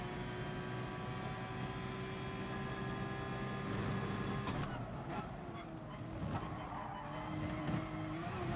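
A race car in GT Sport loses grip with massive oversteer mid-corner, its steady engine drone joined by a brief tire squeal and skid, heard at close range and fairly constant throughout.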